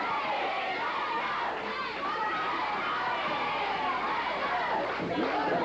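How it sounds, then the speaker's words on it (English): A large, excited crowd at a GCW wrestling match roars and chants for DiBiase in a continuous, loud wash of voices, with a commentator's speech running over the noise. "Very excited crowd, I might add, too, as you can hear them chanting now for DiBiase"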